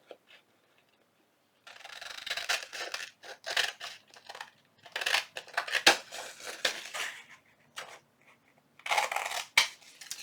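Scissors trim paper for a handmade shaker card in a junk journal, giving crisp, close snips and rustling cuts in irregular bursts after a quiet start.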